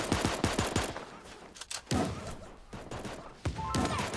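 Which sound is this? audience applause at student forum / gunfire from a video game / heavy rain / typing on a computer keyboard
gunfire from a video game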